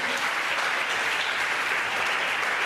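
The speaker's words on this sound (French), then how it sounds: "on peut acclamer un peu le Seigneur s'il vous plaît" A church congregation gives a steady burst of loud clapping and cheering for the Lord, a dense unbroken wall of applause throughout.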